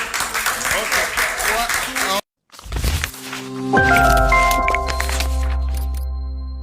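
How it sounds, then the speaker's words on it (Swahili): A crowd at a live show claps loudly for Bongo Flava fans. The dense applause is cut off abruptly, then followed by a rumble and sustained electronic music tones. "Naomba watu wa Bongo Flava wapige makofi tafadhali"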